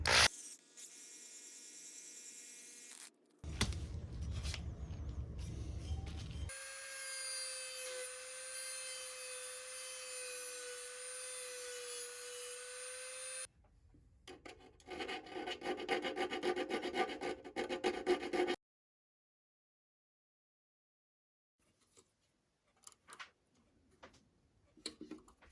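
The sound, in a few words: M5 screws cutting their own threads into 3D printed plastic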